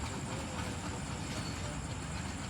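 Locomotive shunting two coaches for the Mianwali Express, a faint, steady rumbling wash of rail noise with dense rhythmic clatter.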